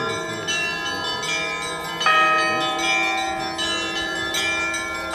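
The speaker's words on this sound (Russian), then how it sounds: "Ликующий колокольный звон сообщает городу и миру благую весть о воскрешении Христа." Orthodox church bells ring out jubilantly for the Easter service, several bells of different pitches struck in a lively overlapping peal with sustained ringing tones, moderately loud and unbroken by talk.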